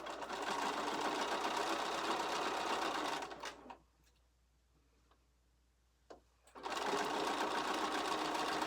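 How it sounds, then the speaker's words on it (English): A sewing machine stitching a quarter-inch seam on diagonal-cut quilt fabric, running in a loud steady buzz, stopping for a few seconds with small clicks, then starting up again. "we are going to go ahead and stitch again 1/4 inch down the side"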